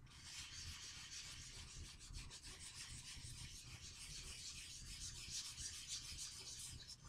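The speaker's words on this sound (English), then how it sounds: "sanding in a circular motion," Gun stock wood being hand sanded in circles with wet finish, a soft continuous rubbing and scratching that stays close and fairly quiet without pause, no voices present.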